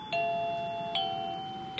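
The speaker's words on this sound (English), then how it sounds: "when they press the button, it'll ring the bell" A KEDSUM wireless doorbell with a built-in thermometer display rings three clear, bright chime strikes in close succession, each tone ringing on and decaying, with no talking.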